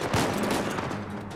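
Rapid gunfire in Uncharted 4 pours in as a steady fusillade of overlapping shots, dense and fairly loud without pause across the moment.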